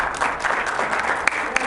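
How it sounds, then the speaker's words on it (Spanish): A short burst of applause from a crowd at a panel event, steady clapping throughout with a couple of sharper claps standing out. "Den un aplauso ahí a nuestro director"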